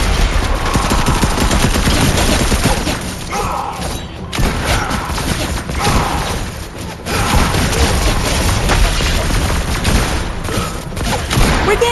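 Fortnite gunfire in a Halloween match: loud, rapid bursts of shots and booming impacts pile up densely for most of the stretch, dropping briefly before resuming, with shouting voices mixed in.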